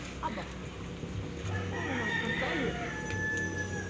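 A pet chicken clucks and calls in bursts, with one longer crowing-like cry, moderately close over a steady outdoor background.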